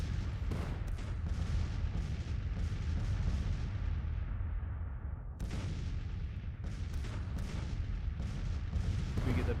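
Artillery fire in the strategy game Grand Tactician, in a Second War of Independence campaign: dense, continuous booming salvos and rumbling gunfire that overlap without pause, loud throughout.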